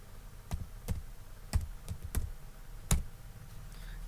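Keys on a computer keyboard are pressed one at a time while someone builds a resume in MS Word, giving about eight sharp, irregularly spaced clicks over a quiet room background.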